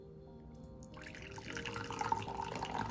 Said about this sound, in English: let's pour out some and see how it comes out